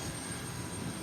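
An ATR 72 turboprop airliner rolls down an airport runway, a steady broadband engine roar that holds at a constant level throughout, with no voices.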